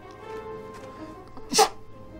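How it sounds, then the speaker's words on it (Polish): A single sharp sneeze bursts out near the end, loud and close, over quiet game background sounds. "kichnąłem"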